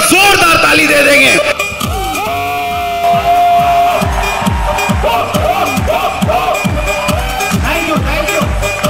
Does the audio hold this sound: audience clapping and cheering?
yes